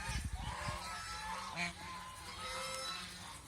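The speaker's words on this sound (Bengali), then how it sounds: "এখন যে হাঁসগুলো আছে এই হাঁসগুলো কিন্তু আসলেই এলোমেলো অবস্থায় বিভিন্ন দলে বিভক্ত" A flock of ducks on a commercial duck farm calls out in overlapping honking quacks, moderately distant and faint against a constant background rumble.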